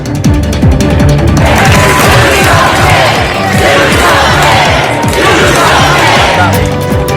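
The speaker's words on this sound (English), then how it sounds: "those calls from a crowd at a vigil in Dayton" A large crowd calling and shouting at a vigil in Dayton after a mass shooting, a loud continuous roar of many voices with swelling cries.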